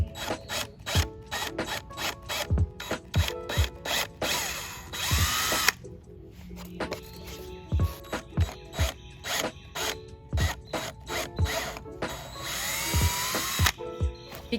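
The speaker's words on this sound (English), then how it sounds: "Be careful not to drill all the way through the wood." Power drill boring dowel holes into a wooden board for a rotating drawer, a steady run of rapid, loud mechanical ratcheting pulses with two brief sustained whirring bursts, close up and with no talk.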